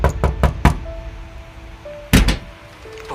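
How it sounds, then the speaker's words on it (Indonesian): Loud knocking on a wooden door from outside a bedroom: a quick burst of four raps, a pause with a faint hum, then two more heavy knocks, close and alone. "suara ketukan pintu terdengar keras dari luar kamarku"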